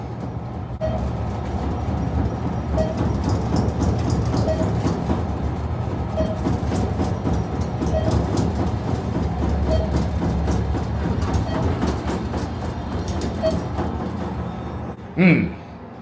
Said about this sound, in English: the elevator was making a noise